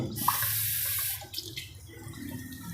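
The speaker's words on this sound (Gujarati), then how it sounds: "હવે આપણે થોડુંક પાણી નાખીશું" A glass of water pours into a pan of cooked spices for Kathiyawadi dhokli shaak, a loud rushing splash for about a second that stops abruptly, leaving soft sizzling and small clinks.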